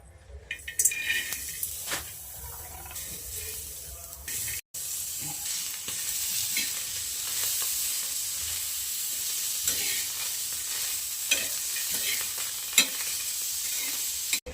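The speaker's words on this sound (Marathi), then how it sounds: "मी बी सोलून धुवून घेतल्यात तर भाजून घेऊयात आता" Fresh pigeon pea seeds are dry-roasted in a pan: a few clinks and scrapes, a brief break, then a steady hissing sizzle with intermittent stirring clatter, fairly close and continuous, no talking.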